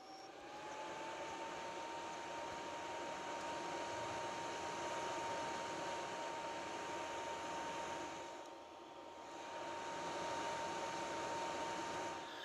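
The cooling fan of an older studio flash light hums steadily once switched on, a constant whirring drone with a faint tonal whine. It dips briefly near the end, then resumes, alone and at moderate level.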